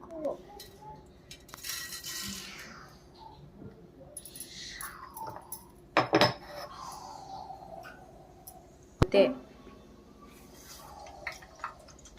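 Urad dal spluttering in hot oil while tempering for uppittu, faint crackles and pops with a couple of sharper clinks from the pan, under quiet kitchen background.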